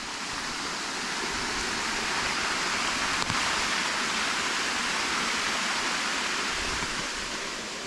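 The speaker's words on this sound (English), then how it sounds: "So there's a lot of water coming in there" Water pours steadily from a dam into a carp fishing lake, a continuous broadband rush that holds level and close, with no talk over it.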